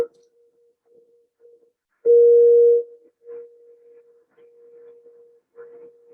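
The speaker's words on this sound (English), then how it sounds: "you'll hear these continuous tones that are, decreasing loudness" Recorded radio beacon 4U1UN from New York sends continuous steady tones in sequence, one loud burst followed by progressively fainter tone segments, clean and isolated against silence.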